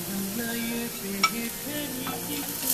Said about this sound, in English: Fry the garlic little bit, it'll change the color.